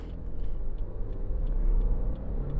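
A Subaru WRX S4 engine held on the brake rises in a low, rumbling drone as revs build toward about 4,000 RPM, heard from inside the car, steady and moderately loud.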